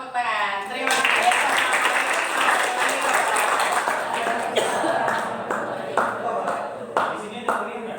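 A class audience applauds a group presentation, clapping building quickly to a full, even patter, then thinning into scattered individual claps toward the end.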